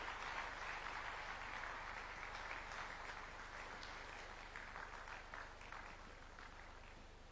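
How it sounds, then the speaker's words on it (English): A large audience at KICC in Nairobi, at the Second Africa Urban Forum, gives President William Ruto a continuous round of applause as he walks to the stage, a dense clapping wash that fades slowly over several seconds. "please put your hands together for His Excellency, Dr. William Samoei Ruto, the President of the Republic of Kenya"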